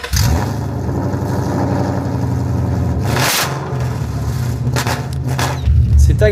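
A 420-horsepower Ford Mustang GT rumbles loudly through its noisy exhaust, holding a deep throbbing idle, then a sharp rev blip midway before settling back to a heavy burble.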